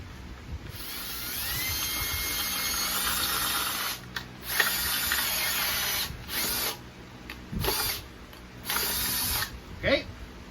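A drill bores into metal on a gas three-wheeler with a steady, high-pitched whine that runs for a few seconds, then cuts in and out in short bursts. A voice speaks faintly underneath.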